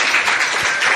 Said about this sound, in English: I wanted one more round of applause for yourselves, for everybody that's in this room